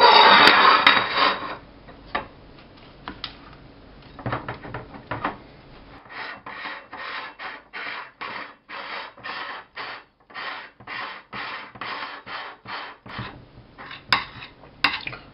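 Plates and dishes clink and knock on a surface as a serving of eggplant salad is set out. Irregular handling noises give way to a steady run of short, rhythmic clatters, close and clear with no talking.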